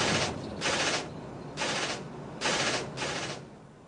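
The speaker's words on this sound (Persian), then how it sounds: "این فیلم که در آن به یک ماشین تیراندازی می شود" Bursts of automatic gunfire are fired at a car by private security contractors in Iraq, four or five rapid rattling volleys at a moderate distance with short gaps between them.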